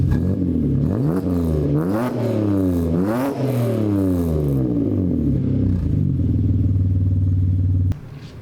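A BMW E46 Spec race car with a stainless exhaust and a single Adrenaline R resonator revs repeatedly, its note sweeping up and down in rhythmic blips before settling into a loud, steady idle that cuts off near the end.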